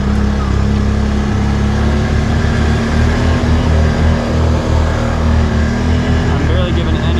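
A Can-Am Outlander 650 XMR ATV on ITP Mega Mayhem tires, in two-wheel drive, climbs a rocky hill with its engine droning loud and steady at low throttle while the tires spin, and a rider talks over it.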